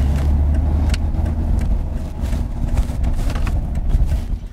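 A car engine runs steadily with a low rumble as the vehicle makes a turn at a green light, road noise continuous and fairly loud throughout.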